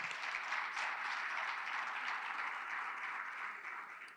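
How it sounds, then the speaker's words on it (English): Applause from the audience at a school district's annual State of the Schools event, honoring the school board: a steady wash of clapping at moderate volume, holding evenly for about four seconds with no voices over it. "Can we give them another round of applause?"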